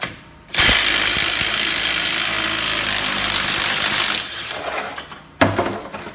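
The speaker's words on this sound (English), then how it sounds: "let's get the axle nut off" A loud, continuous mechanical rattling of an impact tool removing a 32 mm axle nut on a Ford Escape runs for several seconds, then cuts off, followed by a short final burst.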